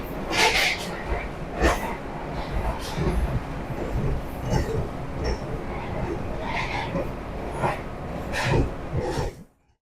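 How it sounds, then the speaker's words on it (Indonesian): Interior of the restaurant car on the Argo Anjasmara train, a steady rumble of rolling wheels and carriage noise with scattered clicks and knocks, fading out at the end. "Inilah interior kereta makan kereta restorasi kereta api Argo Anjasmara."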